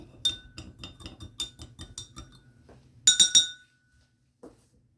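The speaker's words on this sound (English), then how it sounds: "Stir it up." A spoon stirs salt into water in a drinking glass, clinking against the sides in a quick, even run of bright, close chimes, then a louder burst of three rings, followed by a final soft tap.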